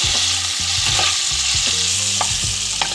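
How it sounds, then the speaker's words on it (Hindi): Green chilies fry in hot oil with a loud, steady sizzle, while a utensil stirs and scrapes against the pan in a repeating rhythm throughout, with no talking. "आज ये हमारे पास देखिए मिर्चें फ्राई हो गई हैं।"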